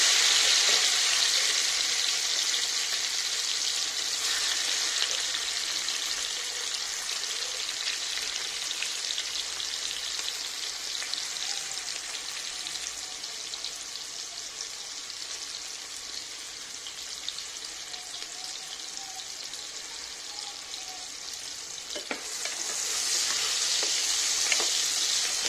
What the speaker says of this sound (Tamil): கட் பண்ணி வச்ச வெங்காயம், தக்காளி இது எல்லாத்தையும் ஆட் பண்ணி நல்லா ஃப்ரை பண்ண போகிறோம்.